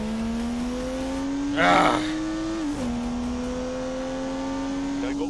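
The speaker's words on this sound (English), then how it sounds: "an unleashed 360 solid rampaging horsepower from the turbocharged 3-litre straight six" A turbocharged 3-litre straight-six car engine in The Grand Tour video game holds a steady, droning rev that climbs slightly, dips, then settles, under a brief burst of noise and a short exclamation.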